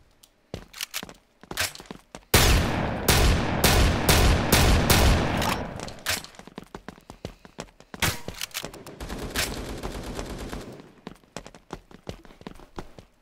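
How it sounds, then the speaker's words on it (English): Repeated shotgun blasts from the zombies mode of the game Pixel Strike 3D, a dense burst of loud, close shots packed together, then a second volley after short scattered impacts, with no voices. "I need to grab my gun that has a shotgun."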